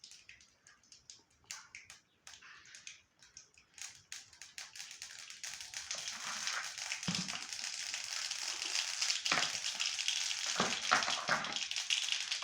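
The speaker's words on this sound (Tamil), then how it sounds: "கடுகு வெடிக்கட்டும்." Mustard seeds splutter in hot coconut oil with scattered crackles and pops. These thicken into a dense, steady sizzle of rapid bursting, heard close with no talk.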